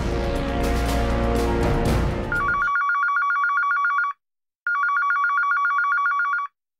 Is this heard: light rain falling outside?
no